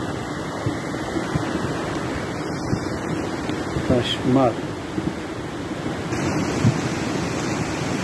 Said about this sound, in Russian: Вся река вышла берегов и течет по проезжей части автодороги Анцукланда